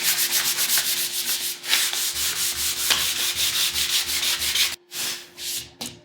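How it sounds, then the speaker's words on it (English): Steady rhythmic rubbing of sandpaper on a block over a spray-paint stencil, quick back-and-forth strokes close up, pausing briefly near the end before a few more passes. "With a little bit of sanding,"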